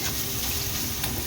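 Loud, dense sizzling of onions frying in a pan fills the short moment, steady and close, with a faint scrape of stirring.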